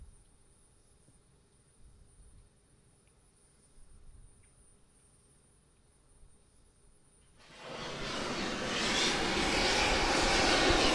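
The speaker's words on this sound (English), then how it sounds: "Holy crap, Booster 7 is depressing." SpaceX Starship Booster 7 at Starbase venting as it depressurizes: after quiet outdoor ambience with insect buzz, a sudden loud broadband roaring hiss starts and keeps building, heard from a distance without talk.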